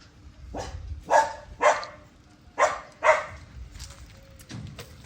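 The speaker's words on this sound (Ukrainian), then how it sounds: "щось приблудилась така собачка" A stray dog barks in a steady series of about five short, moderately close barks, with a softer yip afterward.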